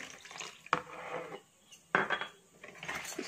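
A spoon mixes eggless marble cake batter with milk in a bowl, giving soft, wet stirring swishes and two sharper clinks against the bowl. The sound is quiet and close.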